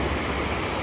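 Steady broadband roar of cold ocean waves washing in continuously, close and full, with no distinct breaks or voices.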